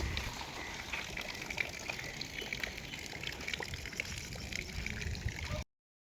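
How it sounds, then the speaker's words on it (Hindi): Rainwater pours from a house roof in Karachi and splashes steadily nearby, a continuous rushing patter of falling water that ends abruptly. "अभी भी पानी जो है वो यहाँ से घर की छत से गिर रहा है।"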